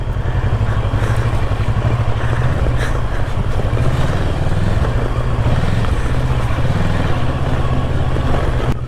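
A motorcycle rides along a monsoon road near Kalu waterfall in Maharashtra, its engine droning loud and close throughout with steady throttle changes and some road clatter.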